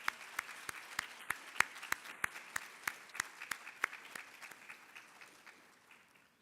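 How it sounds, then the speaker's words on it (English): Sparse, evenly spaced claps ring out at an awards ceremony, crisp and distinct at first, then fading toward the end, with only a few hands joining in. "I think a standing ovation"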